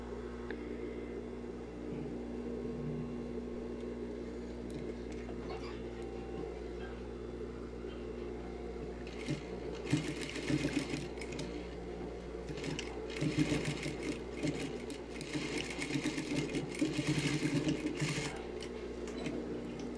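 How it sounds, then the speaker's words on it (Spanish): A sewing machine runs a topstitch 1/16 inch from the folded edge of bias binding on a garment closure, steady mechanical whirring throughout, with denser, louder bursts of stitching in the second half. "ahora vamos a pasar un pespunte a un 1/16 sobre el borde del doblez del bies"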